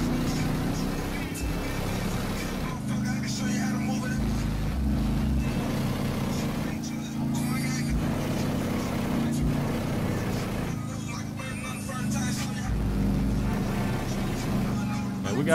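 A car engine drones steadily while driving in the video game GTA 5, a continuous low rumble with shifting tones, and a voice talks intermittently over it.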